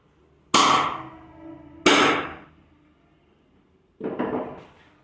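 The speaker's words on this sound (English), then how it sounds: "we will take a poker to make the holes. So we will hold the poker here and we will hammer it" A metal poker hammered into a wooden board in three sharp, ringing strikes, the first two close together and the third softer after a pause, with nothing else heard.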